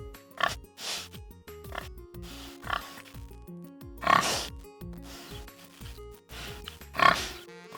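A pig grunts and oinks in an animated Hindi story about a proud pig and a lion. Several short snorting bursts are spread over about eight seconds above steady background music.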